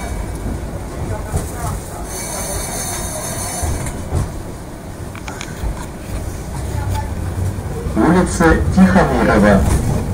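A Moscow tram on route 17 rumbles along its rails with a high metallic wheel squeal partway through, and a voice speaks over the noise near the end.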